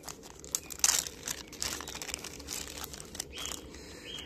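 A small plastic bag holding accessories for a Nextorch TA30C tactical flashlight is opened, with close, irregular crinkling and rustling bursts and a sharper crackle near the start, and no talking.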